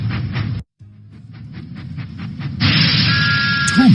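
A cartoon steam tank engine in a children's Thomas the Tank Engine video game puffs in a steady rhythmic chuff, then gives way to a loud, sustained steam hiss near the close.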